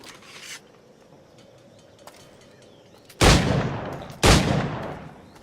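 Two loud, close gunshots boom a second apart in the Assassin's Creed video game, each trailing off in a long echoing decay after a quiet stretch of faint ambience.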